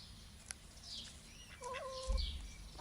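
Chickens cluck and chirp softly in a farmyard with ducks nearby, a few short calls and a brief two-toned cry over light rustling and a low thump.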